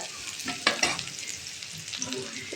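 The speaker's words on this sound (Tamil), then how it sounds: "அதே பாத்திரத்தில் கொஞ்சம் எண்ணெய் ஊற்றி பெரிய வெங்காயம் போட்டு வதக்கிக்காங்க" Large onions sautéing in a little oil in a pan, with soft sizzling and a few stirring scrapes against the metal, close and moderately quiet.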